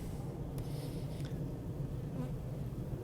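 Honey bees buzz steadily around an open beehive during a pre-winter inspection outdoors, a dense continuous hum with a few brief clicks and knocks from the hive.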